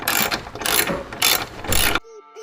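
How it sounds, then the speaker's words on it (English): A ratchet wrench with an 11mm socket tightening a bolt during a front-mount intercooler install on a BMW 335i, rapid close clicking in several bursts for about two seconds, then quieter background. "Take our 11mm socket."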